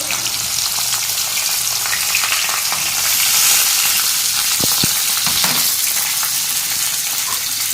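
Carrots and other winter vegetables fry in oil in a pan, sizzling loudly and steadily, with a couple of brief utensil knocks partway through and no talking.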